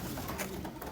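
Birds calling in a zoo's bird enclosure, a short burst of soft, dove-like cooing set against a steady, hazy background with no voices.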